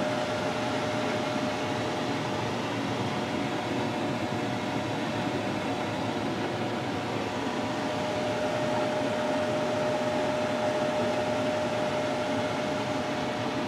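A paint booth exhaust fan runs at its maximum setting of 493 CFM, a constant loud whooshing roar with a faint steady hum and no change in level from start to end.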